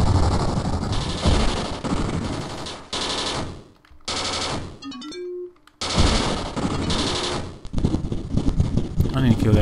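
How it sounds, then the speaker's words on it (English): Rocket launcher fire in the Sega Genesis war game General Chaos: loud, dense bursts of crackling, explosive game gunfire in long volleys, broken by short quiet gaps and a brief electronic tone. "That freaking rocket launcher's kicking my butt"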